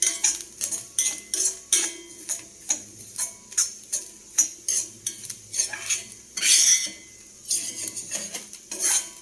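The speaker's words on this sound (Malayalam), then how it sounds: "ഇനി ചൂടുള്ള ചീനച്ചട്ടിയിൽ കിടന്ന് ഇതിനെ ഇങ്ങനെ വറുത്ത് കോരിയെടുക്കണം" A spoon scrapes and clinks rhythmically against a hot pan while stirring grated coconut as it roasts, steady close strokes repeating about twice a second with one louder rattling scrape midway.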